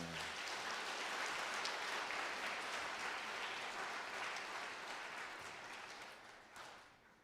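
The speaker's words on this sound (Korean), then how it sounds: "세 분 장로님들의 걸어온 신앙의 길과 헌신에 감사의 박수로 맞이하겠습니다." A church congregation gives warm applause for retiring elders, the dense clapping filling the sanctuary at a moderate distance and fading off toward the end with no talking.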